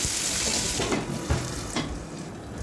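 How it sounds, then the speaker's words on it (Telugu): Garlic slices, mustard seeds, green chilies, coriander and mint frying in oil for a tomato chutney, a close sizzle that starts loud and thins out, with a few stirring clatters and no voices. "వెల్లుల్లి రేకలు ఆవాలు వేయించుకొని వేగిన తర్వాత ఇందులోనే కొత్తిమీర పుదీనా పచ్చిమిరపకాయలు కూడా వేసి వేయించేసుకోవాలి"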